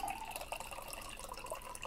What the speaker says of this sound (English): I'm pouring coffee out of my old coffee mug from a place I used to work into a coffee mug that I can use